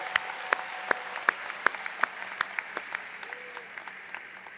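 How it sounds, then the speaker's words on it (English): Applause from a university new-student convocation audience, heard as a sparse, fairly faint series of individual claps in a steady rhythm, fading gradually over a few seconds in a large hall. "let's give her a big round of applause because she has really been fantastic"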